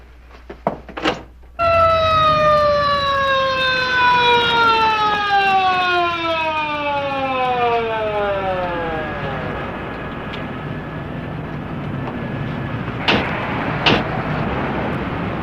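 A mechanical ambulance siren cuts in loudly, then its wail slides steadily down in pitch as it winds down over several seconds into a lower lingering drone, set in the 1950s TV police drama Highway Patrol.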